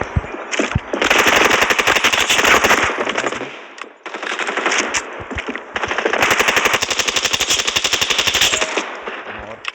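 Rapid automatic gunfire rattles through a video game shootout in two long sustained bursts with a short gap between them, loud and dense, with sharp shots at the edges and no talk over it.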